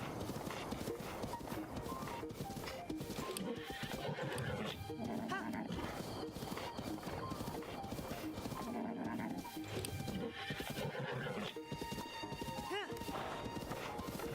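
A horse in The Legend of Zelda: Breath of the Wild snorts and whinnies over hoofbeats, set against continuous in-game ambience and music, moderately loud with no talk over it.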